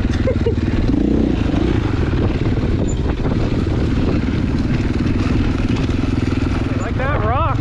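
A dirt bike engine drones continuously while riding high alpine single track, with rattling clatter from the terrain and a voice talking over the ride.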